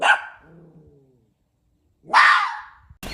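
A dog barks loudly and close by, with one sharp bark at the start and a second a couple of seconds later. A low growling rumble follows the first bark.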